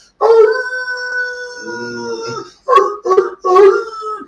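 A man imitates a wolf howl with his voice, one long sustained loud howl followed by three shorter howls close up, no other talk.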